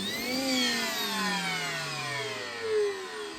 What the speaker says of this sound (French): On va lui brancher un ancien aspirateur.